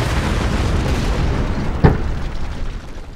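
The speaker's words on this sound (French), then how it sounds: "J'ai réussi à exploser la bombe avant que le commence" A bomb exploding in a timed defusal video game, a single sharp muffled boom over a constant loud noisy background.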